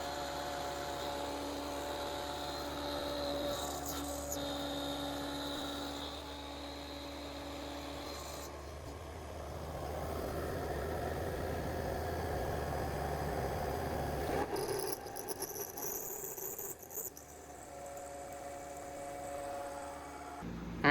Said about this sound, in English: I milled out some grooves on this big piece of C-channel